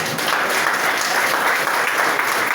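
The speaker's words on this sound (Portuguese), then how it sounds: "Receba a missionária Selma com as palmas em nome de Jesus." Steady church congregation applause, a dense continuous clatter of many hands clapping, loud and even throughout with no voices standing out.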